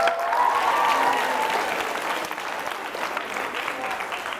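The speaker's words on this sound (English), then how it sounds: "Teachers, give them a round of applause." A high school audience at a youth motivation assembly applauds teachers, steady dense clapping that stays loud throughout and eases off slightly toward the end.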